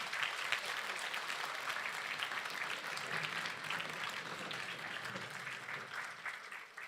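An audience at a lecture forum in Hong Kong gives a speaker another round of applause. The clapping is even and sustained, faint and at a distance, with a little crowd murmur underneath.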